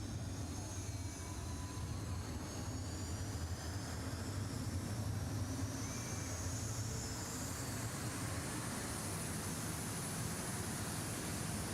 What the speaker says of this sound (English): Or they warm up the engines here.